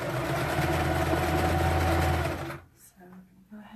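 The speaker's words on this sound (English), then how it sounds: "I got a new sewing machine" A new sewing machine runs steadily and loudly as it stitches fabric for a Belle dress made from a men's T-shirt. The motor whirs for about two seconds, then stops, and quieter handling sounds follow.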